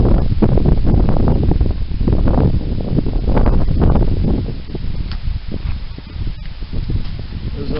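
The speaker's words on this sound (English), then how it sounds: "Where's all the wind coming from?" Strong wind buffets the microphone outdoors beside a campfire, with a loud continuous low roar in irregular gusts and occasional rustling.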